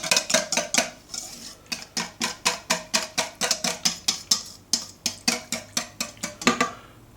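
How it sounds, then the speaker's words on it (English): Rapid, even whisk strokes clatter against a bowl while wet ingredients for dark chocolate and stem ginger muffins are mixed, a steady rhythm of about three taps per second that runs close and clear, unbroken by speech. "we're going to whisk that together quite simply"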